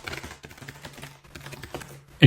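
Quick, uneven typing on a computer keyboard, light close key clicks patter in short bursts, ending in a louder clack.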